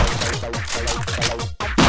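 Gunfire in a zombie twin-stick shooter video game sounds as a rapid burst of repeated punchy shots in a steady rhythm, loud and close, with a brief gap near the end.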